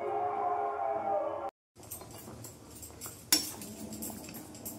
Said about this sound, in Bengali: আমি এটা একটু নেড়ে দিই, না নাড়লে হবে না